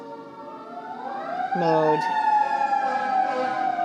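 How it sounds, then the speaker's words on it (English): A fire engine siren wails past a house, its rising tone sweeping up and holding loud and steady over traffic rumble, while a person talks briefly. "That is a fire engine that just went by my house"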